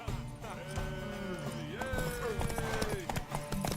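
Horse hooves clip-clopping in The Witcher 3, a quick rhythmic gallop of hoofbeats with a whinny, under voices and background game music.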